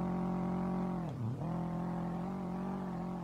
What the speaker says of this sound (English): Oh, it sounds like a Subaru.